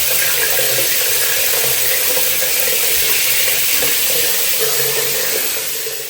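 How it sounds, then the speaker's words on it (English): Running water from a shower pouring and gurgling down a normally flowing shower drain, a steady loud wash that holds evenly throughout with no talk. "That's a pretty normal sounding drain for this shower."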